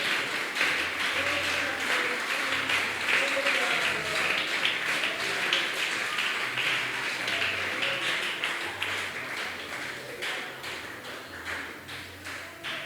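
Congregation in a church applauding steadily for nearly thirteen seconds, a dense continuous wash of clapping that stays loud throughout and tapers slightly at the end, with some voices mixed in.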